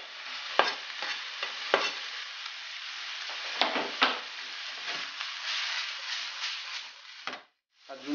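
Cuttlefish, chopped prawns and salmon cook in a pan for seafood lasagna, giving a steady close sizzle broken by repeated scraping stir strokes and a brief quiet gap near the end.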